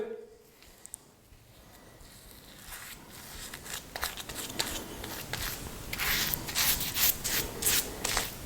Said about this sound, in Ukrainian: Наносимо гель.